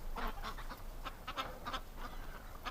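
Pretty ducks in a snowy winter yard honking and quacking in a lively overlapping chorus, repeated bursts close by with a steady outdoor rumble underneath.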